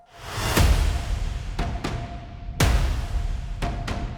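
Layered trailer percussion from the Damage 2 library: two heavy reverberant impacts, each followed by a pair of quicker strikes in a repeating pattern, loud and full over a steady low drone, with no talking.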